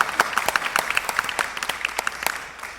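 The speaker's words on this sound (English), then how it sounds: "So first of all, we're going to applaud because it's a beautiful thing" Audience applause following a Mahler Symphony No. 4 performance in an interpretation class, with a dense wash of individual claps in an irregular patter, fairly close and steady, gradually thinning toward the end.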